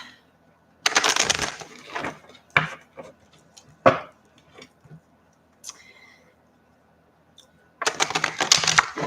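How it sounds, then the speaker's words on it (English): Tarot cards being shuffled by hand: bursts of riffling and flicking near the start and again at the end, with scattered sharp card taps and clacks between them and quiet pauses. "shuffle cards"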